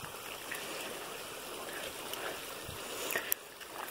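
A small stream flows out of a mountainside in Hot Springs National Park, a steady soft trickle and gurgle of running water heard alone at moderate distance throughout.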